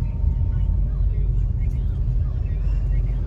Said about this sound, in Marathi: ट्रॅफिक आहे थोडी.